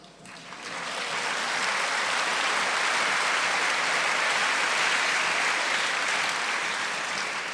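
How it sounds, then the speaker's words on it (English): A large audience breaks into sustained applause after a discourse by His Holiness on ahimsa, the clapping swelling within a second and holding as a thick, even roar of many hands. "Please, let's have the first round of applause for the audience."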